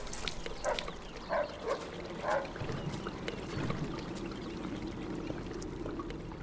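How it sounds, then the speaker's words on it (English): Dog barking in the video game Mafia 2, several short barks in quick bursts near the start, then a steady trickling water sound with low ambient rumble. "Shit, that dog could be a problem."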